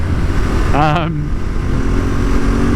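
Ducati 848 sport motorcycle engine running close by with a steady loud drone and a brief rising rev near the start, continuous throughout.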